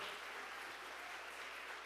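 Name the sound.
church congregation applauding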